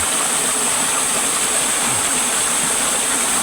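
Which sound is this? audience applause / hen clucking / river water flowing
river water flowing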